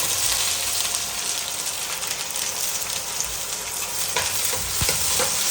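Chopped onions frying in hot oil, a loud dense sizzle running continuously with a few utensil knocks and stirring scrapes near the end.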